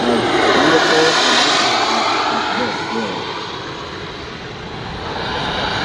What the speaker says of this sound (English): It's a 50 kilo airplane. It has to be touched down very carefully, especially the nose gear.